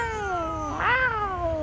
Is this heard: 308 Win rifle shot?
no